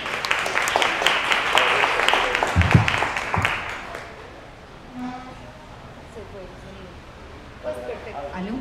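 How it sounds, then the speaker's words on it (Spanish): An audience at a lecture on Carl Jung's psychology applauds for about four seconds, a dense burst of clapping that then fades out, and someone speaks into a microphone afterward. "Muchas gracias y un aplauso para ti."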